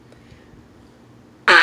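After a near-silent pause, a single short, loud nasal quack bursts out at the end, a human voice imitating a duck.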